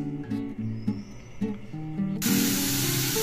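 A pressure cooker of duck adobo lets out a sudden loud, steady jet of hissing steam that starts abruptly and keeps going, nearby over faint background tones.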